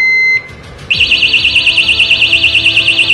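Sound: Ox Lock trailer hitch lock tamper alarm beeping

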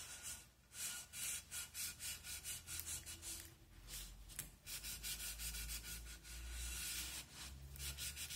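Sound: rubbing glued label on bottle with cloth to smooth it

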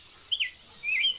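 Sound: birds chirping

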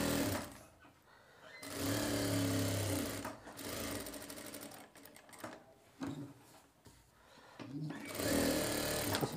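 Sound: sewing machine stitching a shirt collar

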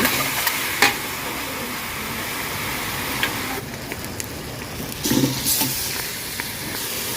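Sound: stir-frying garlic, coriander root and pepper in a pan

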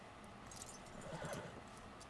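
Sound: horse hooves in video game Red Dead Redemption 2

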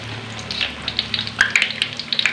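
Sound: bananas frying in oil

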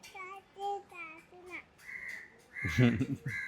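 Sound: crow cawing

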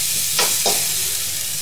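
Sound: stirring instant noodles cooking in a pan

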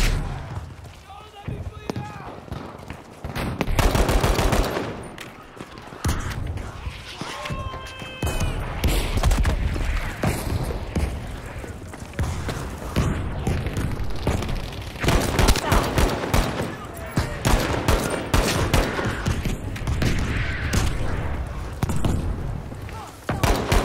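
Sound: gunfire in Battlefield V video game

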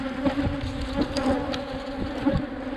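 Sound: honey bees buzzing in a hive

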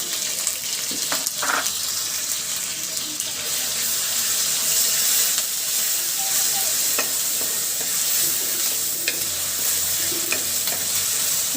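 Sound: frying spices, onion and chilli in oil

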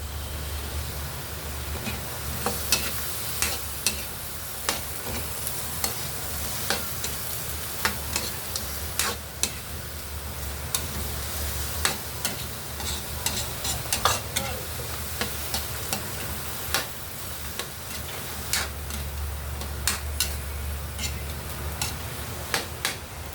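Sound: stir-frying with soy sauce and oyster sauce

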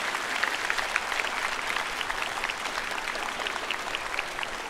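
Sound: audience applause after a high school brass band performance

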